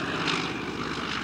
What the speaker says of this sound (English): That is a Hellcat. Hellcat. F6F Hellcat. Grumman airplane.